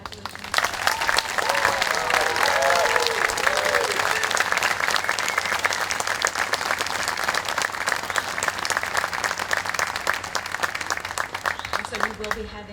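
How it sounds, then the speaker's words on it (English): A crowd applauds at an MBA hooding ceremony for the class of 2023, with loud, dense and sustained clapping that carries on for over twelve seconds before tapering slightly at the end. "We'll have one more round of applause for all the wonderful achievements"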